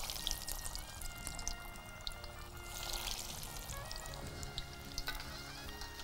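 Cutlets frying in hot oil, a few at a time: a continuous quiet crackle and sizzle runs through the whole stretch with small popping bursts, fairly soft and even.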